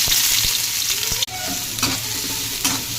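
Chopped onion sizzles in hot oil in a kadhai, a bright steady frying hiss broken by occasional stirring knocks and scrapes close by.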